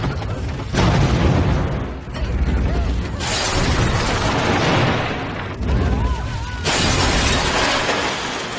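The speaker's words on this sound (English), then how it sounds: "Doctor just blew a bunch of aliens with a cruise missile." Cruise missile explosion in a Doctor Who scene, a loud sustained roaring blast with shattering debris, swelling and cutting in several bursts with faint whistling tones over the rumble.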